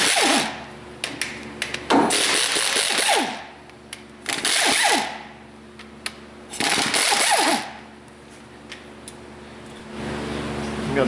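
Mechanic working on a Dodge Ram axle with a 13 mm socket ratchet, removing bolts from a seal and bearing retainer. Three loud, buzzing mechanical bursts of a few seconds each, close up, with quieter gaps between them.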